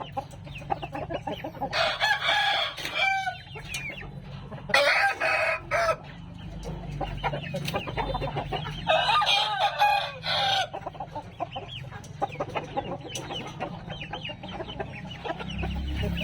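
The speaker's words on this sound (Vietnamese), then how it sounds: "Gà tơ nha anh em ơi, gà tơ mới lớn nha." Young chickens cluck busily while roosters crow loudly in several separate bursts, close by at a poultry sale, with the flock chattering continuously in between.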